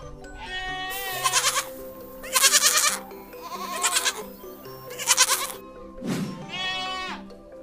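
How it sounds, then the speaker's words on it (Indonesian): A herd of goats bleats on a walk around a village: loud, close, overlapping bleats arrive in several bursts over a steady low background. "Kambingnya banyak juga ya pak."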